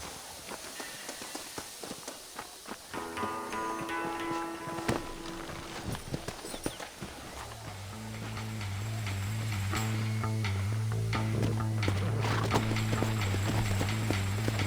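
Horse hooves clip-clop in Red Dead Redemption, a steady trotting rhythm mixed with ambient game sound and music that gradually grows fuller and louder.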